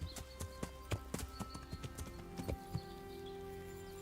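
Horse hooves clip-clop at a steady walking rhythm in the video game Kingdom Come: Deliverance, fairly close and clear over a quiet ambient bed, fading into a softer steady tone near the end.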